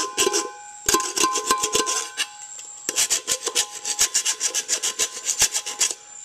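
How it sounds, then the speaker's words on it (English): A file rasping burrs off the edge of a hole cut in a metal can: quick bursts of sharp scraping strokes, close and loud, in two runs with a short pause between. "we're gonna just file the edges off to make it fit in smooth"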